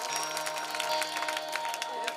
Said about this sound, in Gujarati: એકદમ જોરદાર તાળી તો વાહ